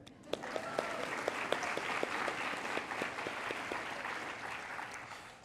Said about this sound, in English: I think I should clap to that